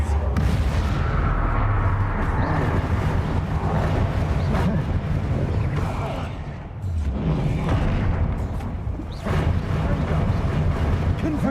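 Repeated blasting-curse explosions from a Harry Potter wizard-duel video game, a dense, loud run of booming blasts and rumbling impacts that barely lets up, with brief dips between volleys.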